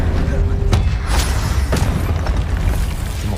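Fire spell cast in Hogwarts Legacy: loud, close bursts and booming whooshes with sharp transient hits over a continuous rumbling game soundscape.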